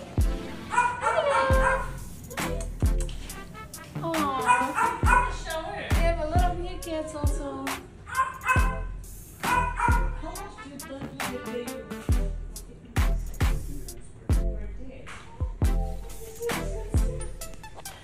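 Excited dogs in Abu Dhabi bark, yip and whine repeatedly in short, irregular bursts, nearby and lively throughout, with brief pauses between volleys.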